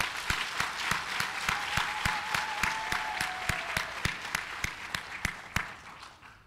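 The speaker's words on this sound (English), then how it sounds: "I would like you to join me as I give them an applause for their great work" A crowd applauds in rhythmic unison, sharp, evenly spaced claps repeating steadily over a softer background of scattered clapping, gradually fading toward the end.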